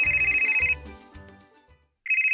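An electronic telephone ring tone sounds in a steady warbling burst, stops, and starts again, clear and fairly quiet, with no talking.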